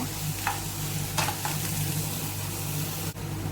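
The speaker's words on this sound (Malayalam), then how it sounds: "സവാള നന്നായിട്ട് വഴറ്റിയെടുക്കാം." Sliced onions sautéing in a pan crackle in an even, continuous sizzle with a couple of brief stirring scrapes and a steady low hum beneath, close and loud.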